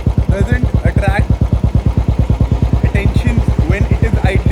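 A Royal Enfield Bullet 350 fitted with a GMA peashooter exhaust idles in a loud, close, deep thumping beat that stays even throughout, with someone talking over it.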